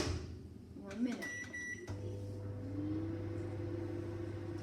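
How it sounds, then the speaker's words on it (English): A microwave oven starts up with a door clunk and beeps, then settles into a steady low hum while cooking spaghetti, with faint background noise throughout. "I'm gonna put it in the microwave"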